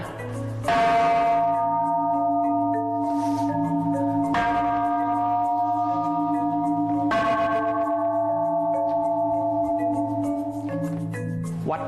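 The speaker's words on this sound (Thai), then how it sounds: "มาตีระฆังกันดีกว่าครับ เดี๋ยวผมตีเผื่อทุกคนนะ" A temple bell in a cave temple is struck three times. Each strike is loud and close, with a bright metallic clang that rings on as a long, sustained hum before the next strike.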